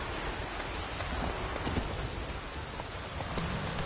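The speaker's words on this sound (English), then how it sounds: "Let it rain." Steady, dense rainfall in The Witcher 3: Wild Hunt, a continuous loud wash of drops pattering on surfaces with a faint rumble underneath, no voices.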